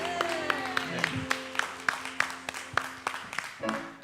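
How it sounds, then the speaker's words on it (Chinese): A church congregation at a Sunday worship service claps in a steady rhythmic beat, with a sustained voice or music tone running beneath the claps. "让我们用掌声献上给他，哈利路亚。"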